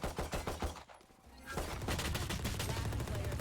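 Rapid bursts of gunfire shot through walls in a Valorant college esports match between the Badgers and Penn State, loud and repeated in quick rhythm with a brief lull before a denser sustained volley.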